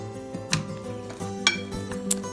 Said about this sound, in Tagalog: haluin lang natin ng mabuti para ma-mix ng ayos yung mga ingredients